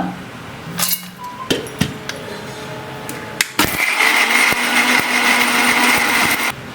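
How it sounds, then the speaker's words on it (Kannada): A mixer grinder grinds green grapes to a fine paste, starting in short bursts, then running steadily with a loud whirring roar, with clinks of the jar and lid. "ಎಲ್ಲ ಮಿಕ್ಸಿ ಜಾರ್ಗೆ ಹಾಕ್ಕೊಂಡು ಇದನ್ನ ನುಣ್ಣಗೆ ರುಬ್ಕೊಳ್ಳೋಣ ಇವಾಗ"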